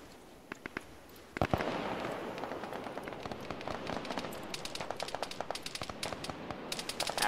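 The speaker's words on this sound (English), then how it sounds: "Doc is taking fire from that machine gun." Machine gun fire in a tactical shooter game, rapid sharp bursts of gunshots rattling steadily against a noisy battlefield background, loud and close after a brief quieter opening.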